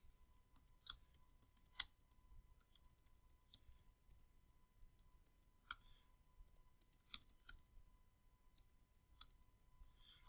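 Faint, sparse clicks of keys on a computer keyboard come in small irregular bursts as a sample sentence is typed into Microsoft Word in a quiet room, with no talk.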